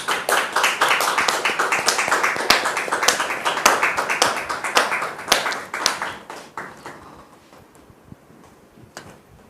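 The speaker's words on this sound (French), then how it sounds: "Recevons maintenant Dame Juliette sous vos applaudissements, s'il vous plaît." A studio audience on a French talk show claps and applauds, many hands giving dense rhythmic claps that stay loud, then thin out into a few scattered claps before fading away.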